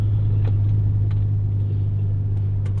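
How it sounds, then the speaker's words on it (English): A FlowMaster Flow FX muffler on a 2004 GMC Envoy 4.2L, heard from inside the cabin as a steady, loud, low exhaust drone and engine rumble while driving. "definitely seems like the muffler noise is a little bit on the louder side in the interior than I was thinking"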